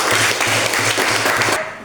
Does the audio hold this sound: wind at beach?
no